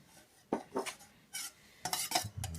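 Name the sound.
stirring melted tallow for candle making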